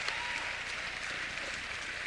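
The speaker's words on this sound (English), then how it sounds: "One more time, can we clap for Dr." Conference audience applauding, a dense, steady wash of clapping from many hands filling the room without a break, moderately loud and even.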